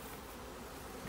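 Bees buzz densely and close up, a continuous droning hum with no voices.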